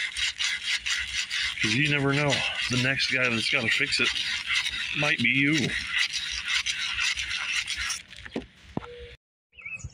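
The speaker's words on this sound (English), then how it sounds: "after a lot of sanding and playing back and forth" Harsh, steady rubbing and rasping of sanding on metal parts of a McCulloch H1500 portable generator, continuous and close, with a voice speaking partway through before the scraping thins out.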